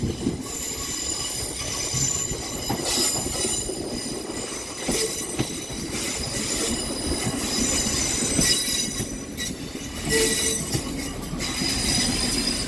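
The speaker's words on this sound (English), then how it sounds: "Oh look, here's my train." A train pulls into a station platform, its wheels squealing and rumbling loudly and steadily with occasional bursts of screeching brakes; no one talks over it.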